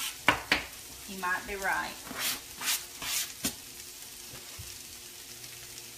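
Cabbage and meat sautéing for egg roll in a bowl, with steady sizzling and several stirring scrapes in the pan while a person briefly speaks.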